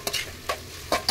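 Chicken being stirred as it browns in a frying pan for a home-style curry, giving three brief scraping strokes with light sizzle between them, close and fairly quiet, no voices.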